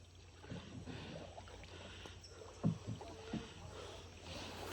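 A paddled catamaran moves across an enchanted lake in the Amazon rainforest, with soft paddle strokes dipping and splashing in the water, quiet and close, over a faint outdoor background.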